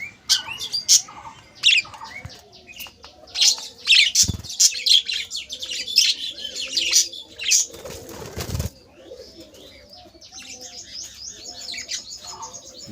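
Budgerigars in a budgie colony chirp and tweet in quick, high bursts, with a flurry of wing flapping partway through, nearby and fairly loud.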